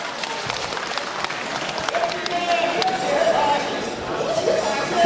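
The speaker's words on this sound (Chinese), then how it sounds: "来，朋友们，再次掌声鼓励一下" Audience applause at an evening song and dance show in Zhangjiajie, China: steady, dense clapping from a crowd filling the space, with a host's voice speaking over it.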